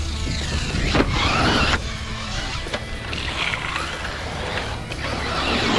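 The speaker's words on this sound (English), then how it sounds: "The more I drive it, the more I get the characteristics down, and I like the buggy." A Kyosho MP-10e 1/8-scale electric RC buggy runs nearby with a steady motor whine, and the pitch rises and falls as it accelerates and takes corners, over continuous tire and drivetrain noise.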